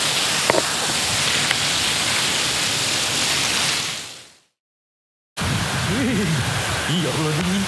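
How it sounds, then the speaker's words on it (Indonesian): Steady broadband rain hiss fills the first four seconds at night in Taman Megawaty, Binjai, drops to silence, then returns loud and constant with voices talking over it. "Hujan."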